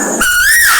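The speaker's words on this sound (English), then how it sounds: "That is a red-breasted sparrow," A red-breasted sparrow's call, heard in India in the early morning: one clear, high whistled note that rises and then slides down, under a second after a brief burst of noise.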